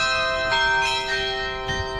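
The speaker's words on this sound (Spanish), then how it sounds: "hay como un tipo de un juego de campana que suena ahí" A set of bells rings out in Curaçao, sustained ringing tones overlapping into a steady, fairly loud chime with several struck notes layered on top, heard without talk.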